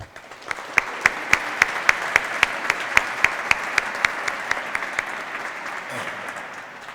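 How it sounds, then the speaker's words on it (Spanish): An audience at a talk on the making of the Burgos Cathedral doors claps to welcome two speakers, a soft bed of applause punctuated by one sharp, evenly spaced close clap, fading toward the end. "les vamos a recibir a los 2 con un fuerte aplauso"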